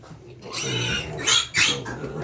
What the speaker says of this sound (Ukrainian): Поросятки наші там тусуються, це просто капець.